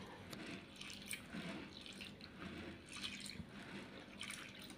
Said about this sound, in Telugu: వీటిని కడిగేసి వాటర్ వంపేసుకోవాలన్నమాట.